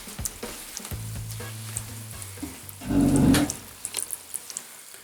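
Fruit soaking in a basin of charcoal water gives off a faint crackle and fizz over low background hum, with a brief louder fizzing swell near the middle.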